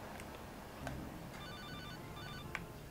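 A folding mobile phone in the PS2 game GTA Liberty City Stories rings with faint, repeated electronic beeps over quiet in-game background noise.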